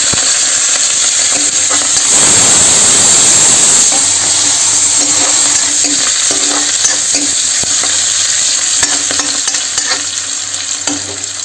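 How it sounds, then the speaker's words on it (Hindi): Cumin, onion and fenugreek sizzle loudly in hot oil in a home kitchen, a continuous close-up frying hiss with crackles. The sizzle surges for a moment as the ingredients go in, and a few light stirring clicks are heard. "तो अब मैं डालूँ जीरा ला, और डालूँ प्याज और मेथी ला।"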